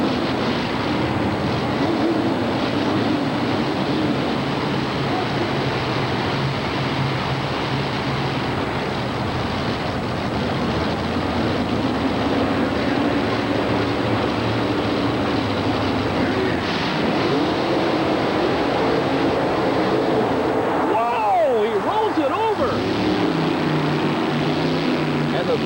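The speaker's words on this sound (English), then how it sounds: "Throttle hanging wide open, as apparently when the machine went upside down, it jammed the throttle linkage" Monster truck engine roaring with its throttle jammed wide open after a rollover, at a mud and monster truck race inside the New Orleans Superdome in 1990; a loud, sustained drone with a crowd and an announcer's voice over it.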